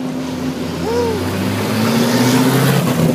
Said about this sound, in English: Let's welcome Tom Potter in his Corvette number 33